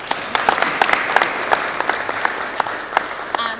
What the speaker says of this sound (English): Yay, we can clap.